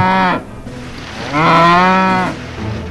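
Cattle moo loudly and close by: a short low call opens, then after a brief pause a longer, fuller moo follows, with a hint of a third starting at the end.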